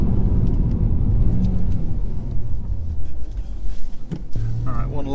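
A 2018 BMW M140i accelerates hard with traction control off, its engine rumbling loud and low from inside the cabin as a driver's voice talks over it.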